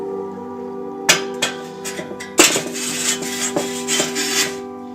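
A metal kitchen strainer serving as a grate in a paint-tin wood gas stove is slid out, producing several short raspy metallic scrapes and knocks over a faint steady hum.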